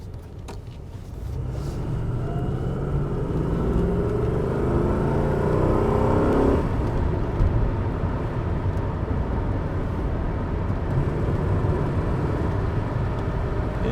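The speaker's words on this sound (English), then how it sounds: "I will take a left turn and let's accelerate" A Mercedes S-Class accelerates after a left turn, its engine and road noise rising into a steady, loud rumble that holds to the end.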